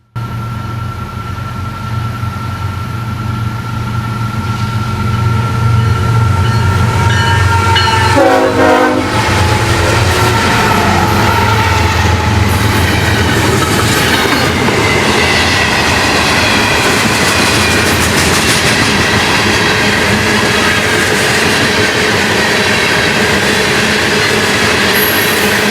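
Florida East Coast Railway train 109 passes close and loud through Pompano, a sustained deep horn blast early on followed by heavy rolling wheels, clatter and squealing as the cars go by.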